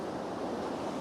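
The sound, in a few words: ocean waves washing back over rocks, Scarborough South Bay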